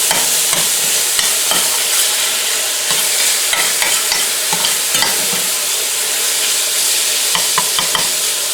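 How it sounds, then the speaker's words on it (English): Sausage is slow frying in a pan with a dense, continuous sizzle, and light stirring scrapes break through it now and then. The sound is loud and close, with no talk. "And we're going to slow fry this."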